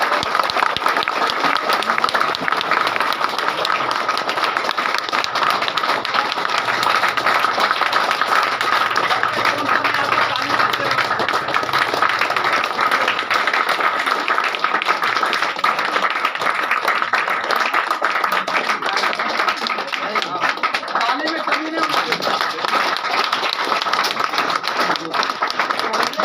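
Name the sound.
audience giving loud applause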